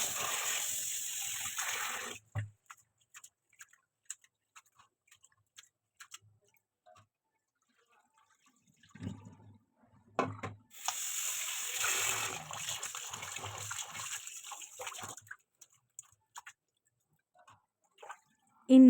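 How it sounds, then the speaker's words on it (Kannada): Avalakki (flattened rice) is rinsed in water: bursts of splashing and pouring water come in two main stretches, separated by quiet gaps with scattered small clinks and swishes, close by. "ಅವಲಕ್ಕಿನ ಸ್ವಲ್ಪ ತೊಳ್ಕೊಬೇಕು"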